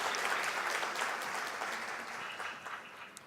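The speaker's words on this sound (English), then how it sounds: "Please give me a round of applause if you enjoyed the event." Applause from a large audience at the closing session of a developer conference, dense and steady clapping filling the hall for a few seconds, loud at first and gradually fading slightly toward the end.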